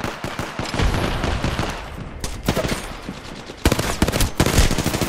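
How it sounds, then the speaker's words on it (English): Video game shooter gunfire crackles in rapid bursts, with dense automatic volleys that pause briefly near the middle and then resume loud and close. "I put some bullets into him."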